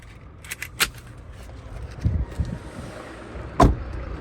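The two keys of a 2013 Renault Koleos jingle in short, bright metallic bursts over a quiet background, a few separate rattles early on, softer handling noise midway and one sharp clink near the end, with no talking.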